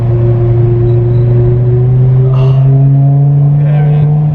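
A BMW E63 M6 V10 engine holds a steady, loud, high-pitched drone from inside the car, its tone rising slightly near the end, with faint voices beneath.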